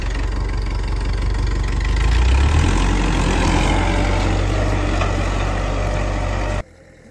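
A 70-year-old tractor engine runs at full throttle near the India–Pakistan border, a loud, steady, deep chugging roar that rises slightly midway and then cuts off abruptly.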